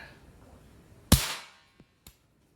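A single sharp, loud shot from a Marlin 795 rifle, up close and quickly decaying, followed by two faint clicks.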